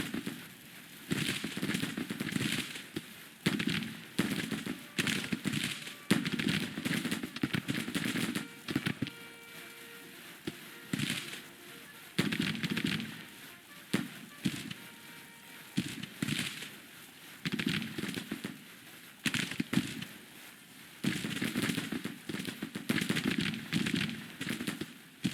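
Civil War musket fire in the Grand Tactician strategy game crackles in rolling, uneven volleys, a continuous popping battle din that swells and eases over a long stretch.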